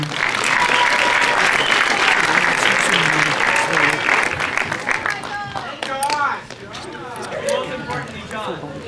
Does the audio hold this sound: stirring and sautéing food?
no